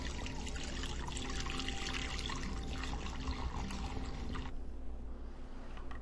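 Liquid glow-in-the-dark gelatin mixture poured into a container, giving a steady close trickle and splash that runs for several seconds and then stops.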